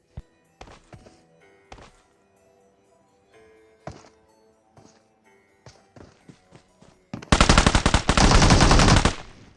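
Gunfire in the mobile battle royale game BGMI, scattered single shots and thuds at first, then a loud, rapid automatic burst lasting about two seconds near the end.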